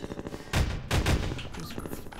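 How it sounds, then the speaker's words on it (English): Half-Life 2 gameplay carries bursts of gunfire, with two loud booming volleys and scattered shots in between, all sharp and close. "Who's shooting?"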